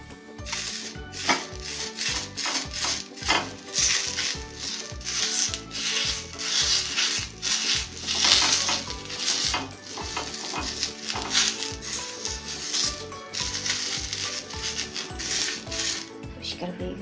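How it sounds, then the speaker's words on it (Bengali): A bottle gourd leaf is rubbed firmly over a hot, oiled pan for Bangladeshi chitoi pitha, making loud, continuous scraping and rubbing strokes in a steady back-and-forth rhythm, close up with no talk. "এখন এই লাউ পাতা দিয়ে আমি খুব ভালোভাবে এটা মুছে নিচ্ছি।"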